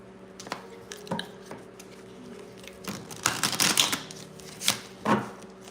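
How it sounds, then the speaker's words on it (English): Crisp riffling of cards in several short bursts, with a longer flurry in the middle, close to the listener and fairly quiet. "that was a jacked up shuffle"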